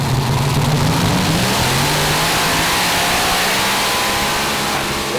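The Fenrir heavy modified pulling tractor revs hard at a 2016 Eurocup tractor pulling final in Brande, Denmark, as one loud, steady engine roar that fills the whole stretch with no talk.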